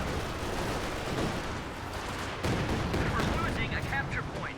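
Dense game battle din with continuous mortar and artillery thuds, booms and gunfire in a multiplayer strategy match, steady and loud throughout with a commentator's voice running over it.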